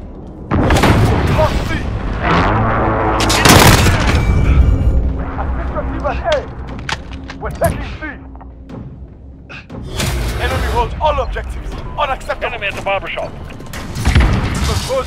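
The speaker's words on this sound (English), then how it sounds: "Enemy precision airstrike inbound." Repeated heavy booms and thuds from a precision airstrike in Call of Duty Modern Warfare online multiplayer, loud and close, scattered across the clip amid busy gunfire and game voice lines.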